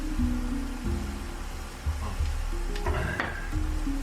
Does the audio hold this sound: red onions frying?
yes